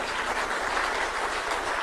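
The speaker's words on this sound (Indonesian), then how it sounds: "Tepuk tangan untuk beliau sekali lagi." An audience at an Indonesian ministerial speech event claps, a dense, continuous burst of applause that stays loud and even throughout without any talking.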